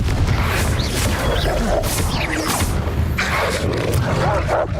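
Confringo fire-spell blasts in Hogwarts Legacy, with dense, continuous loud explosive rumbling and crackling impacts layered with game combat noise, close and sustained throughout.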